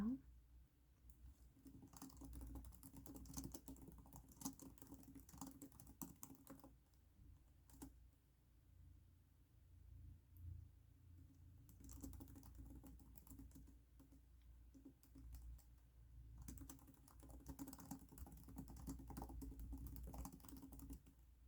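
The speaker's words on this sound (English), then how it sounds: "I'm going to just type everything as is for right now." Soft computer keyboard typing runs steadily for about twenty seconds in a quiet room, with a soft-spoken voice talking over the keystrokes at intervals.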